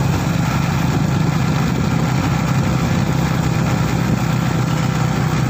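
A motorcycle engine runs loudly and steadily at close range while the bike is ridden, with a constant droning hum and no voices heard.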